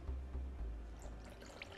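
Cold water pours steadily into a container, a soft continuous trickle with a low hum underneath and a few faint drips.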